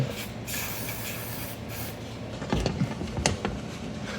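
Contact conditioner is sprayed onto corroded electrical contacts on a Rancher Rubicon, giving a steady close hiss with a few short sharper spurts and light handling noises, with no talk.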